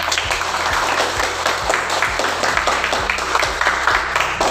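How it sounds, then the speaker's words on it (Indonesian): Audience in a classroom teaching session clapping after a video is shown: a dense, continuous patter of applause, fairly loud and close, with a rhythmic low thudding running underneath. "Tepuk tangan untuk videonya."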